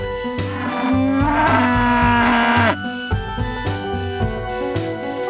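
A toy plays a mooing cow call over a bouncy electronic melody, the moo rising and falling before the jingle carries on.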